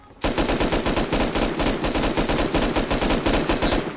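Loud, sustained automatic gunfire rattles with fast, even shots for several seconds while a flame turret is attacked in the Rust video game.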